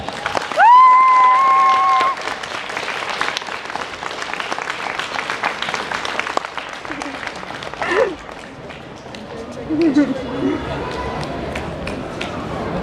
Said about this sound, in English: give a good, great, big, good, great applaud for Jed